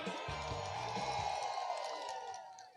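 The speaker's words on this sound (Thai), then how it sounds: "ปรบมือและส่งเสียงเฮดังๆ ยาวๆ ครับ" At a political rally in Phrao district, Chiang Mai, Thailand, a crowd claps and cheers in a broad, sustained roar that fades slightly at the end, with an amplified voice over it.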